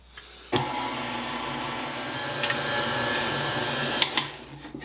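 An electric hand mixer starts abruptly and whirs steadily through fruitcake batter of flour and salt, a close, even motor drone with small clatters against the bowl, then stops near the end.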